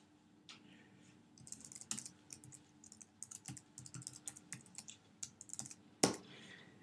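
Quiet computer keyboard typing at close range, irregular bursts of soft key clicks with brief pauses, ending in one sharper louder tap.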